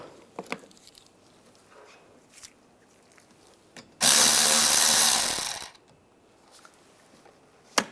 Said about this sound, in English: Now using a 13mm socket, I'm going to take this nut off.